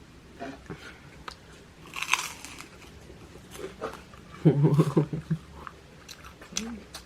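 A crisp crunchy bite into a cucumber snack, followed by close, wet chewing in a quiet home setting, with faint vocal sounds around it.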